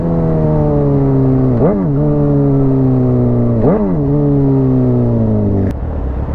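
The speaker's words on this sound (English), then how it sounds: "I love how loud my bike is." A loud mini motorcycle engine holding a steady close rev, with two quick throttle blips that dip and swoop back before the note cuts off near the end.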